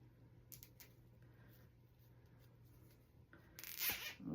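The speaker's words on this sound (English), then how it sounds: "I'm going to zip tie where I just squish the ribbon in" Thin zip tie being pulled tight on a grapevine wreath, a quick ratcheting zip near the start and a louder, longer rasping pull with crackling rustle at the end, close in a quiet room.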